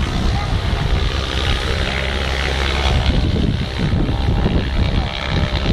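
Antonov An-2 biplane's radial piston engine running up before takeoff at an airfield flying festival, a steady loud rumbling drone with broadband wind-like roar throughout, close by and continuous.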